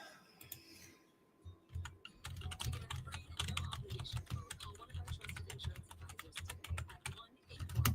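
Fast typing on a mechanical computer keyboard, heard close up as a dense, continuous run of sharp key clacks with brief pauses, fairly quiet overall.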